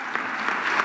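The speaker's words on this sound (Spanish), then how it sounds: "Quiero un aplauso muy grande para ella" Audience applause for a performer at a 2023 carnival murga presentation, a brief burst of dense clapping filling under a second, steady and moderately loud without voices.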